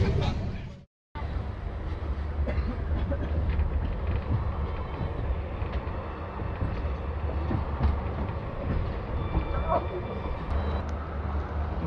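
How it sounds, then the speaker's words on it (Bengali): Continuous low rumble and rattle of the Gour Express passenger train at night, heard from inside a general coach after leaving Farakka, steady throughout after a brief dropout at the start. "ফারাক্কা থেকে ট্রেন ছেড়ে দিয়েছে"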